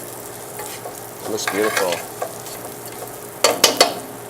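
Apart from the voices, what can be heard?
stirring rice in butter in a pan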